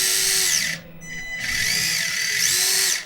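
A small Axial SCX30 RC crawler's electric motor whines steadily at half power, dropping briefly to a quieter pitch before spinning back up in a high, close, continuous buzz with no talking.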